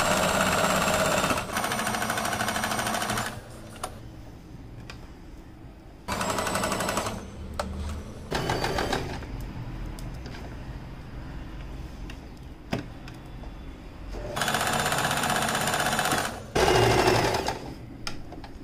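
A sewing machine runs in several loud bursts while stitching fabric for a neck design on a garment, separated by quieter pauses with faint handling sounds.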